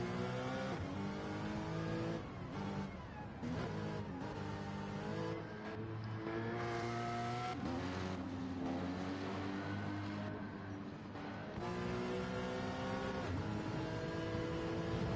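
A Porsche engine roars continuously in a racing video game, a loud, steady high-revving drone with pitch sweeping up and down through gear changes, alone without voices.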